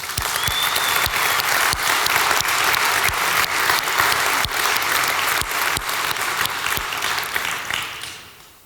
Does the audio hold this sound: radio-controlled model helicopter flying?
no